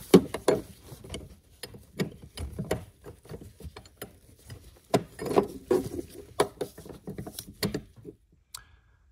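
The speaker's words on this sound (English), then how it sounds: "I'll go ahead and loosen those two lines, drain it out as much as possible" Wrench and metal clicks from loosening steering rack fluid lines under a rusty Chrysler Town & Country minivan: irregular close ratcheting taps and clanks, moderately loud, with brief pauses and no talk.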